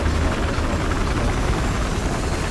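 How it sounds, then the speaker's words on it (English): A helicopter in the video game Battlefield Hardline, its rotor thumps and engine drone filling the space loudly and continuously, with a low pulsing throb. "Hey, I got a chopper."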